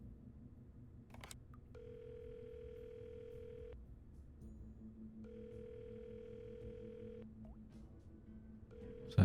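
In the video game 3 Minutes to Midnight, a telephone dial tone sounds in two long steady stretches, broken by short beeps of number dialing, clear and close against a low background hum.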